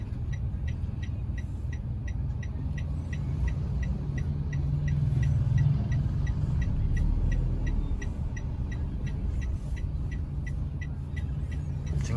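Busy road traffic with cars and tricycles rumbles continuously as a dense low engine drone, with a steady ticking pulse above it and no clear single pass-by.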